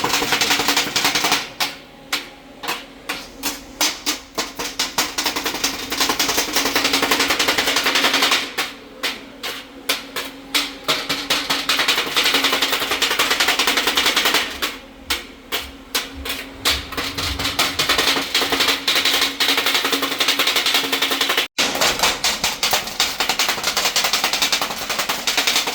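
Kothu parotta chopped on a hot griddle with metal blades, a loud, relentless rapid clanging that runs almost continuously in long bursts with only brief pauses.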